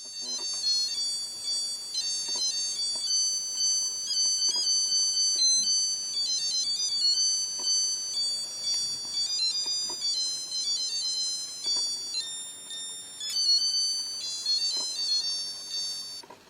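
A high, thin electronic melody beeps out a tune over and over, bright and tinny like a small digital alarm, from a 1970s Casio melody alarm watch, with no talking.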